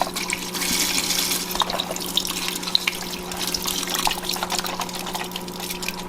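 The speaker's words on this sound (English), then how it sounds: "now I'm just pouring in my 5 quarts of beef broth" Five quarts of beef broth pour from a container into a soup pot, a steady close splashing liquid stream running without pause.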